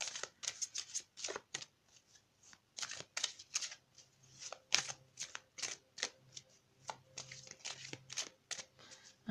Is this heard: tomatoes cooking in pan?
no